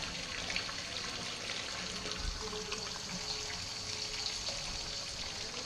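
Tap water runs steadily and faintly in a continuous wash, filling a vessel with strike water for all-grain beer brewing, with no voices.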